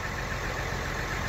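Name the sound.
engine idling at about 1,000 rpm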